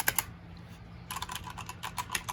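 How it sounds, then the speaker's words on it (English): Clacking keystrokes from a long mechanical keyboard fitted with red Cherry switches on a gaming and streaming desk, a short burst, a pause, then a steady run of close, fairly quiet key taps with no talking. "Me, I love the noisy keyboards."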